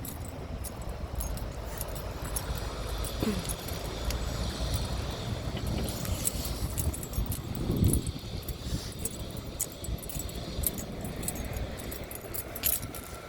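A bunch of keys jangling on someone walking through a quiet town centre in Oberhausen, a continuous light metallic rattle close by over faint outdoor ambience, with no talking.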